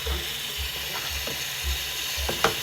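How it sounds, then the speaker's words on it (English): Water runs and splashes in a sink as instruments are rinsed in a second rinse, a steady close wash with light clinks and knocks over the flow, no voices. "I'm going to place it into my second rinse. I'm going to rinse that off."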